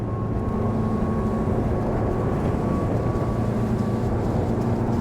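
A Bellini Astor 36 motor boat runs flat out at full speed, with a steady, loud roar of wind buffeting and a deep engine drone throughout, continuous and close, with no voices.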